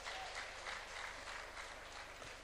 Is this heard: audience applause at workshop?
yes